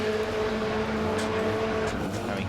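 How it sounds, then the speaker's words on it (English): A Lotus race car engine on track at the Brands Hatch circuit during a race, heard as a steady, loud, continuous engine drone that holds its note throughout. "Rob Boston fires up and rejoins the action as well"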